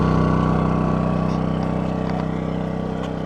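DuroMax XP2000is inverter generator running steadily at a 750-watt load, about half its capacity, giving a loud, continuous engine drone with a constant low hum that never lets up.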